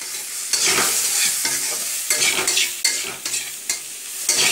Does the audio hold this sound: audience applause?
no